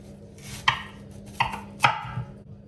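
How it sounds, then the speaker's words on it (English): A knife peeling a raw yam, three distinct sharp scraping strokes, close and fairly loud, spaced about half a second apart in a quiet kitchen. "This is exactly how I prefer to peel my yam"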